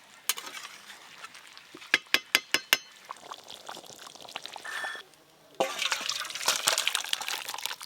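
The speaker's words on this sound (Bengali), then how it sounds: "খাসি মাংসটা হয়ে গেছে, এবার ঢেলে নেবো।" Cooked mutton curry is poured out of a pot: sharp metallic clinks and scrapes of a ladle against the pot come first, then a dense wet pouring splash fills the final seconds nearby, with no talk.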